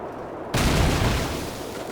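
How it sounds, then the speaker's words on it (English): An explosion in the video game Penumbra Black Plague sets off a sudden loud, deep boom after a quiet start, followed by a sustained rumbling roar. "Marvelous explosion."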